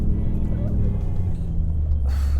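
On board an Aston Martin Virage V550 V8 Vantage, a steady, loud low engine rumble with road noise fills the cabin throughout, with no speech over it.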